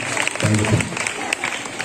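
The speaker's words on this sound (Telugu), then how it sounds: "చప్పట్లతో సార్ మీకు ఆహ్వానిద్దామండి" A crowd applauds to welcome a guest at a retirement felicitation for a maths teacher who served 38 years, a dense burst of clapping with a voice briefly heard over it.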